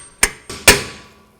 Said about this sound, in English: you just hold this arm while you hammer it the rest of the way in